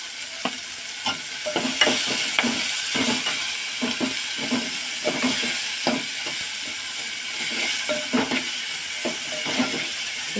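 Onion pieces sizzling with a little salt in a pan while cooking Telangana-style pappu charu: a steady close frying hiss broken by repeated scraping stirs of a spoon, with no talking.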